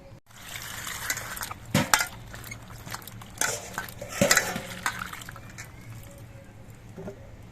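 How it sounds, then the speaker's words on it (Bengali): Potatoes and eggplants being washed in water in a kitchen bowl, with soft sloshing and several sharp clinks and knocks of produce and utensils at an uneven pace. "এবার এই আলু আর বেগুনগুলো আমি ধুয়ে নিচ্ছি"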